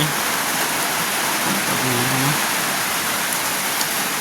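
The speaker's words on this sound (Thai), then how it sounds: "ฝนตก" Steady rain falling outdoors at a rural house-building site, a dense, even hiss throughout with a faint low tonal hum partway through, no voices.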